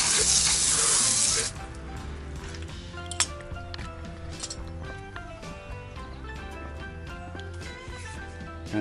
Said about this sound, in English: So we're thoroughly rinsing our wheel.